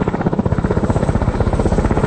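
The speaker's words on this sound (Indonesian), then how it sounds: "Joker dan Raptorman pun berangkat menggunakan helikopter" Helicopter rotor thumping in fast, steady pulses, loud and close, with a continuous engine roar in a Vietnam War film scene.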